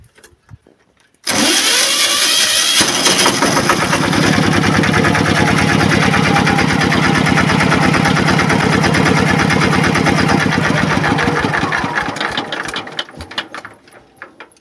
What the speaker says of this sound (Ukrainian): я не так хотів показати, як заводиться мій мототрактор